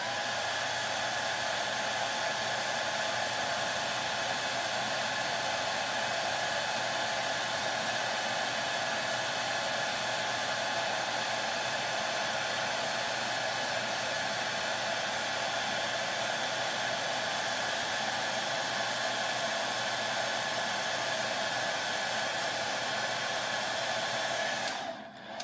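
Hair dryer blowing steadily and close for a long stretch while drying a freshly painted spring egg, a constant airy roar with no talk.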